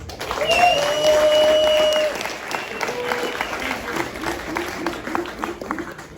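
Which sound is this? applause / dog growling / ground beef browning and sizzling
applause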